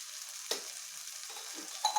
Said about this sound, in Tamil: ஒரு 2 நிமிஷம் வதக்கினாலே போதும்.